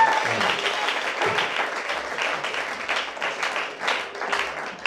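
A church congregation at a Sunday service applauds, its dense, steady clapping going on for several seconds at close range.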